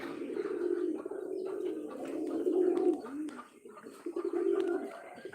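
At a pigeon farm beside a small bathing tank, several pigeons coo steadily in low, throaty rolling calls. The calls overlap and swell repeatedly, close and fairly loud, with faint rustles and flutters between them.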